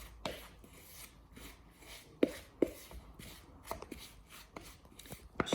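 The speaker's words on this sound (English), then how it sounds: "Just mixing it in until all the lumps go." Bath bomb powder being stirred and mashed in a bowl to break up lumps, giving soft scraping and rubbing strokes with a few sharper taps against the bowl, close and fairly quiet, no talking.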